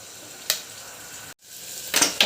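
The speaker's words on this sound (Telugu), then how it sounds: "అట్లాగే ఆనియన్స్ కూడా వేస్తున్నాను. అల్లం వెల్లుల్లి పేస్ట్ వేసుకుంటున్నానండి" Spices, onions and ginger-garlic paste hit hot oil in a pan for a rajma biryani, giving two short bursts of sizzling hiss over a quiet background, the second louder and more sustained.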